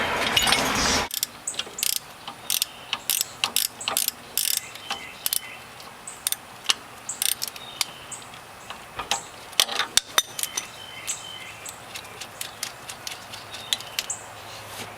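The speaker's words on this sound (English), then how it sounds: "get the second bolt off" A ratchet wrench working an upper control arm bolt loose on a 1995 Honda Civic, heard as close, rapid clicking bursts in irregular runs with brief pauses, no talking.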